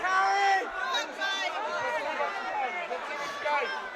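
A packed MMA crowd at UCMMA 54 roars and yells wildly, many overlapping shouting voices swelling and surging in a loud, continuous din.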